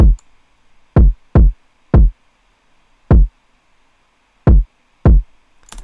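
Kick drum in a trap beat, seven deep punchy hits in a syncopated, uneven pattern, each with a booming low tail, loud and alone against near silence.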